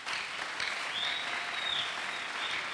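A church congregation bursts into sustained applause to acclaim the Lord, many hands clapping steadily for a few seconds, with a faint cheer over a dense crowd clatter and no distinct speech.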